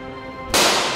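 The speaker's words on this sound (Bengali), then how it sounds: "আব্বা, গুলি হচ্ছে কি মনে হয় পিছনে?" A single sharp gunshot in a drama scene set during a 2024 mass uprising, a sudden loud crack about halfway through that breaks a quiet tonal backdrop and leaves a bright, decaying tail.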